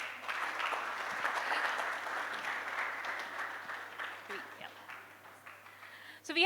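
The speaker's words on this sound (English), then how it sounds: "Round of applause." An audience at a tech conference stage session applauds steadily for several seconds, a dense wash of clapping heard from a moderate distance that fades slightly toward the end.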